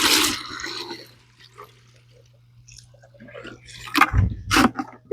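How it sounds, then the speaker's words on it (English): Hot water is poured onto the frozen ice of a fish pond, giving a burst of splashing at the start and then sparse drips and trickles, with louder sloshing pours near the end, close by and outdoors. "This bit of hot water I'm pouring it onto ice"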